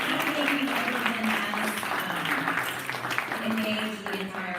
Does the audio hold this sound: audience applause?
yes